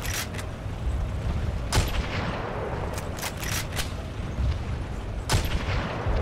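Shots in the Zone of Continuous Fire mod on a Guadalcanal map: a handful of sharp, separate reports spaced irregularly over a steady low rumble of battle ambience, moderately loud.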